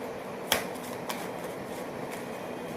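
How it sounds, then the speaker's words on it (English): Tarot cards are shuffled quietly at close range, giving a soft papery riffle with one sharp snap of the deck near the start and faint rustling afterward. "One last shuffle and then I'll take the next 4 cards."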